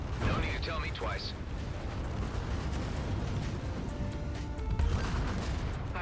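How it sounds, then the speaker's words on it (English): An explosion in the space-combat game Everspace 2 rolls out as a sustained low rumble with crackling debris and mechanical clatter, loud and continuous across the whole stretch, with a brief voice-like tone near the start. "Vacate this area at once. Explosion imminent."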